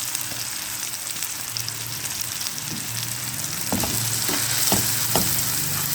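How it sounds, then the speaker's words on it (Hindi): Salt, red chili, turmeric, dried coriander and cumin frying in a pan for brain masala, a steady close sizzle with occasional scraping stir strokes growing busier toward the end, no talking. "अच्छी तरह से भूनना है। जितना मसाला अच्छा भुना होगा उतना अच्छा बनेगा"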